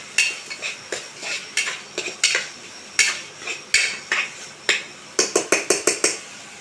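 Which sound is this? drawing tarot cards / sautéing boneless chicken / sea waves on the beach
sautéing boneless chicken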